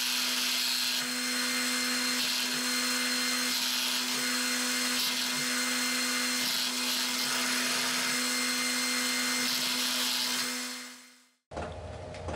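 A workshop heater runs with a steady, loud whirring hum and broadband hiss that holds for about eleven seconds and then cuts out abruptly.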